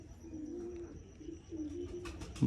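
Red-headed pigeon cooing outdoors among a flock: low, repeated rolling coos, moderately near, continuing through the stretch, with a brief flutter or rustle near the end.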